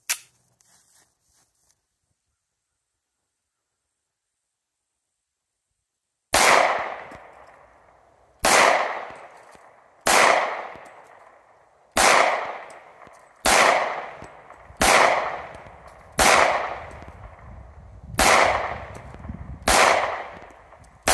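A polymer-framed gun fires nine single loud, sharp gunshots at a steady pace of roughly one every one and a half seconds, each with a short echoing tail, after a long silence.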